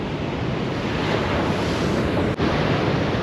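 Stormy, rough sea waves pound the shore after a storm surge, a loud continuous roar of surf with wind buffeting the microphone, with no voices.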